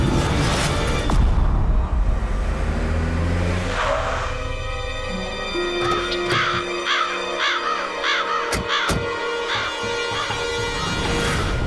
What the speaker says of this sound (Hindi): ये कौवे, ये हंस क्यों रहे? क्या आवाज है?